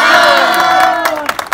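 A crowd at a farewell programme for pre-army training school students erupts in loud, close cheering and shouting. The sustained roar of voices gives way to scattered claps near the end.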